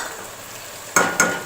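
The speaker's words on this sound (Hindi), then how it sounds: "इसको फ्राई इसलिए कर रही हूँ ताकि ऑयल में इस मिक्स की खुशबू आए" Whole coriander and fennel seeds fry in oil in a pan, a soft continuous sizzle with two sharp bursts of crackling stirring near the end.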